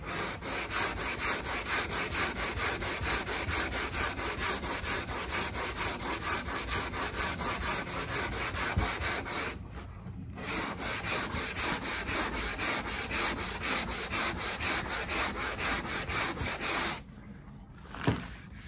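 A sanding block rubs rhythmically back and forth across a car's front wing panel, a close, steady scraping stroke that pauses briefly near the end before stopping.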